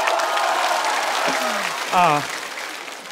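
Audience applause at a stand-up comedy show, a broad steady clapping wash that fills the clip while someone speaks over it.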